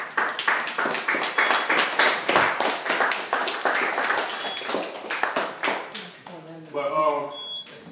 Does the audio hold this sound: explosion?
no